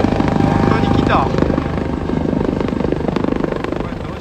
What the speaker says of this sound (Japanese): ヘリが非常に低い高度で来ていまして